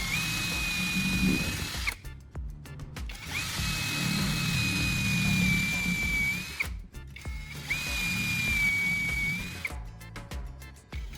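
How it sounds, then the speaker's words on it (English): A power drill whines steadily in three long bursts, each several seconds with brief pauses between, loud and close, no voices. "I'm using a power drill to carefully drill a hole at every single mark."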